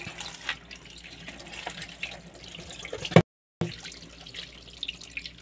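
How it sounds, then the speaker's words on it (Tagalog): Fish being washed under a running kitchen tap: a steady, splashy stream of water with small knocks and drips, close by, briefly cutting out before the flow resumes. "Ngayon, hugasan na natin. Hugasan na natin ng maayos na maayos"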